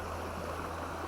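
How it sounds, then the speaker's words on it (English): Fast-flowing water of the Water of Leith rushes steadily nearby, a dense, even roar of river current with no pauses or voices. "that water's maybe a little too fast to cross safely"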